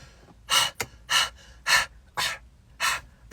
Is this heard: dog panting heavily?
yes